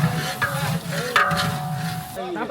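Onions frying in a pan with cloves, green and black cardamom for a village wedding dish, a steady close sizzle with stirring scrapes and clinks, and a brief voice near the end.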